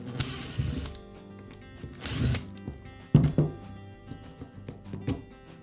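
A power driver backs screws out of the rear cover of a Makita hammer drill, with short bursts of whirring separated by clicks and thunks of handling, close and fairly quiet, no talking.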